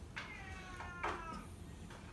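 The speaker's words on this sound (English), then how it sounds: "That cat really wants to join our video." A house cat meows several times during an Exploding Kittens card game session, short rising cries heard faintly in the background of a quiet room, with a final louder meow at the end.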